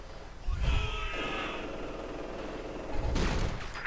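Gunfire crackles in the Company of Heroes 2 strategy game: bursts of rifle and machine-gun fire at mid distance, a low boom near the start and another near the end, under a continuous rattle.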